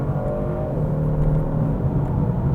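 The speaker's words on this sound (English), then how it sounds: "It does come with pedal shifter, so you can manually shift yourself," A 2019 Genesis G70 with an automatic transmission accelerates steadily, its engine drone and road rumble loud and continuous with no clear gear change standing out.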